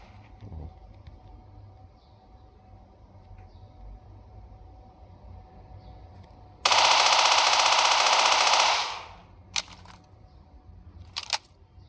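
Rapid automatic gunfire from a 50-round rifle in an offline mobile shooter game, one loud sustained burst of about two seconds followed by two short bursts, with no talk over it.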